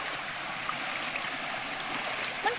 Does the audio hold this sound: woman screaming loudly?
no